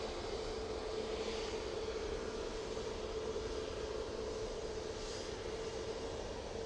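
TUI passenger jet departing Manchester Airport for Rhodes, a steady broad engine roar heard from a distance, even and sustained with a faint whine swelling slightly.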